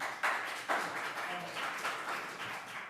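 Clapping from attendees in council chambers at a St. Catharines special council meeting, fairly faint and scattered with a few sharper claps, with murmuring around it.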